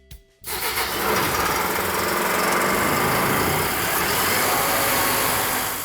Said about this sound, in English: now you're just gonna engage the starter and start the unit